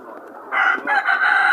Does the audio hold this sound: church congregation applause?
no